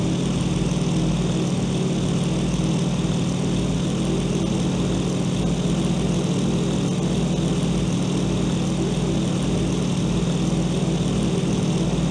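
A propeller aircraft engine drones steadily and close during a landing in the flight game Il-2 Sturmovik 1946, a constant buzzing hum that never changes and is heard alone.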